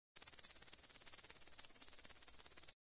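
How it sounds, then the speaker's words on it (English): A grasshopper chirps in a steady, rapid train of high-pitched pulses lasting a few seconds, loud, close and alone. "Grasshopper."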